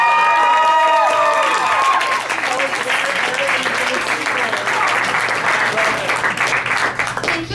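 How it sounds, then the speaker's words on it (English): Comedy club audience applauding and cheering as a comedian is introduced, loud sustained clapping with whoops and shouts throughout, full and close. "All right, guys, lots of noise for my good friend, Miss Ashley Linder, please"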